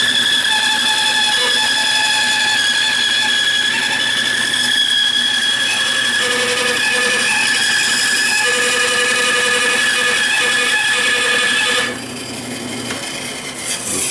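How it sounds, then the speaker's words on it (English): A bandsaw cuts a wood carving blank for a coal miner figure's head and hat, producing a loud, steady droning hum with a ringing tonal whine that drops quieter near the end. "So now it's a trip to the bandsaw."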